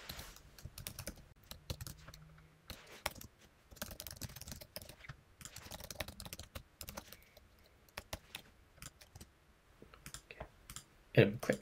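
Mouse clicks and light keyboard taps while an online investor onboarding form is filled in on a computer, scattered irregular clicks at close range with faint voice in the background.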